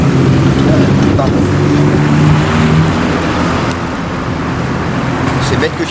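Car driving in Marcillat-en-Combraille, Allier, a steady loud engine and road roar from inside or close by, with a brief tonal whine near the end.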